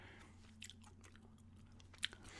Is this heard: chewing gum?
yes